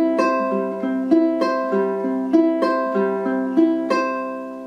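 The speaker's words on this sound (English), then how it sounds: "Now let's get into our second finger picking pattern." Ukulele fingerpicking pattern played as single plucked notes descending steadily across the strings in a repeating even rhythm, bright and close with notes ringing into each other and no voices.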